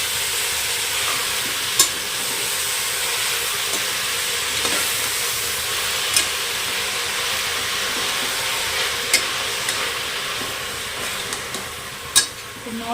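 Radish greens fry in a pan with a long, steady hissing sizzle and sparse light clicks from the utensil, constant and close throughout.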